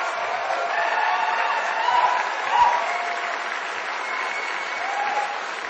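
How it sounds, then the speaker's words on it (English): Audience at a skeptic conference stands and applauds the organizers, a dense steady wash of clapping with a few cheers and whoops rising briefly near the middle, sustained for several seconds. "I want you guys to stand up and give them a round of applause because they're fantastic."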